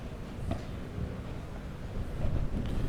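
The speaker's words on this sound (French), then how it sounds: "Le vent qui se lève un peu." Wind gusting across the microphone at an outdoor padel court during a professional tournament match, a steady loud low rumble that swells slightly toward the end, with no voices.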